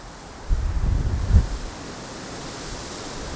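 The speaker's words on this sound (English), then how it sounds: "as you can hear the wind," Strong wind in Montana during a snowstorm buffets the microphone in a low rumbling gust, then settles into a steady airy rush.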